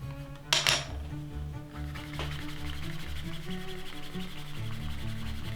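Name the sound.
rubbing Columbus wax onto a leather edge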